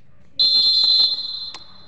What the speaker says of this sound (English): So, the whistle then.